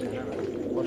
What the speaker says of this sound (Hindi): ये स्याह खाल कबूतर है जी